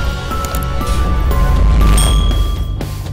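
A bright notification bell ding rings out in a short cluster of chimes with clinks, sitting over a steady low background and standing clearly above it.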